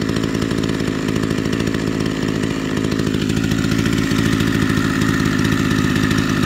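An Echo HC-1500 hedge trimmer's small two-stroke engine idles with a loud, steady buzzing putter close by, running evenly and without a break.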